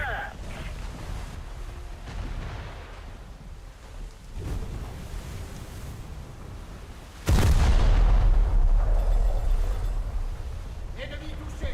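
Naval guns in a warship game fire at the ship Atlanta, a heavy booming blast that rings out with a long rumbling tail behind quieter game noise and a talking voice.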